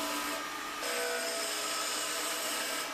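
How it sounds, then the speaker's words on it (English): A wood lathe spins while a 3/4 inch roughing gouge rough-turns a pen blank, producing a steady, loud whirring drone with a high cutting hiss that intensifies partway through and then holds constant. "I do the bulk of the roughing down with a 3/4 inch roughing gouge."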